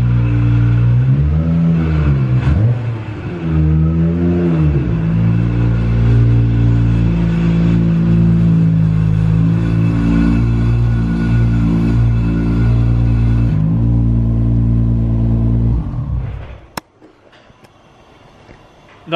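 A loud ex-Dulac demo Nissan 34 engine revs hard several times up close, its throaty roar rising and falling before settling into a rough idle and cutting off.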